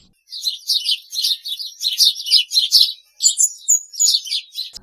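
House sparrows chirp in quick, bright bursts, several close-sounding calls repeating rhythmically with brief pauses, alone without any talk.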